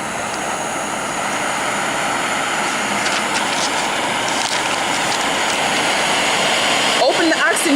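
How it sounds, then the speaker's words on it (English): An oxy-acetylene cutting torch flame roaring as a constant, loud, broad hiss that builds slightly as the oxygen is turned up, with a voice briefly audible near the end. "Open the oxygen valve more to increase the flame size"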